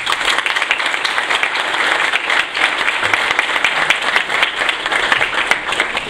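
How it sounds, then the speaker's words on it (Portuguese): An audience gives a round of applause for the professor at a science and technology lecture, sustained, dense clapping that stays loud and steady throughout. "a gente deve dar uma salva de palmas aqui para o professor"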